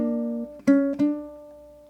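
A ukulele plays a short melodic measure of Greensleeves, a few sustained plucked notes ringing clearly with two firmer attacks in the middle and a long fading tail, solo and close.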